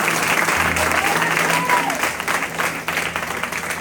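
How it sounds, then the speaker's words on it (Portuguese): A church congregation claps steadily throughout, a dense, sustained round of applause filling the room with a faint voice underneath. "Você pode aplaudir o Senhor?"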